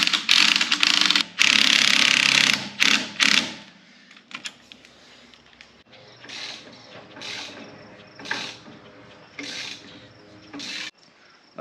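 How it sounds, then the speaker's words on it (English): Impact wrench spinning bolt nuts down while installing longer shocks on a vehicle, loud sustained bursts at first, then a series of shorter, quieter rattling runs spaced out with pauses. "Just using the impact to spin these bolt nuts down."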